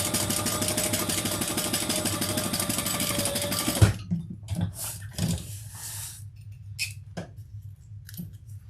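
Sewing machine stitching a garment, a loud steady rapid mechanical whir for about four seconds that stops abruptly, followed by quiet handling clicks and rustles of fabric.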